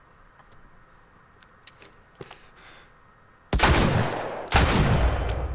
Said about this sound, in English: I didn't have to fire off that second shot